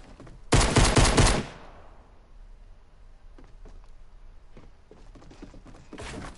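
A burst of rapid pistol shots rings out loud and close in a video game shooter, followed by fainter scattered gunfire and clicks in the distance.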